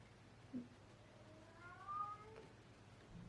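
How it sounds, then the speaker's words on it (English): A house cat meows indoors, a drawn-out rising and falling cry near the middle with a softer chirp before it and a short call at the end, fairly faint against a quiet room. "my cat started meowing, really started distracting me"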